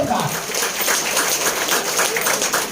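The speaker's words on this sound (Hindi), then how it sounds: "एक बार जोरदार तालियों से स्वागत चाहूंगा" Audience applause at a felicitation ceremony in Mumbai, a steady dense wash of many hands clapping that carries on evenly throughout, with no pause or build.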